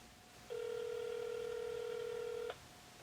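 A phone calling a contact sounds a single steady electronic ringback tone for about two seconds, clean and alone over faint room hush.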